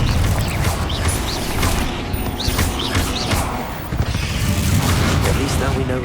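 A fiery Confringo spell blast goes off inside a tomb in the Hogwarts Legacy video game, with rumbling, crackling bursts layered over a dense, continuous game soundscape.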